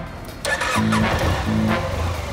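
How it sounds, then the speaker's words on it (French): A scooter engine starts with a sharp burst and then runs with a steady mid-pitched drone that rises as it pulls away. The sound is close and fairly loud, with no talking. "Il enfourche son scooter et fonce"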